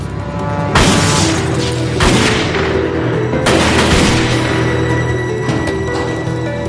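Gunshots in a film scene where a light is shot out: several loud, sharp booming blasts with long ringing decays, two close together and more following, in a dense action soundtrack.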